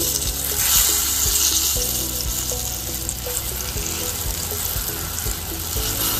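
Fish sizzles steadily in an oily pan, a continuous close crackling hiss with small pops, for a lemon butter garlic fish recipe; no one speaks.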